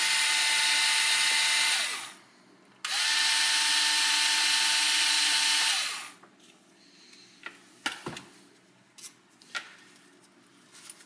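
Two loud bursts of a Hitachi power drill driver whirring while removing screws, each a few seconds long, followed by quieter clicks and handling noises.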